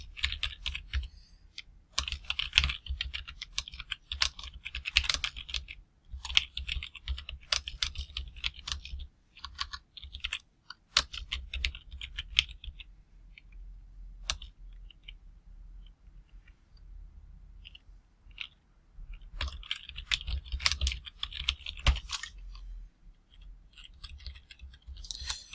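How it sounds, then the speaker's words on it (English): Clicky typing on a computer keyboard, with quick irregular bursts of keystrokes, short pauses and occasional louder key taps, close up and alone without speech. "Feel free to skip ahead if you don't want to see me type."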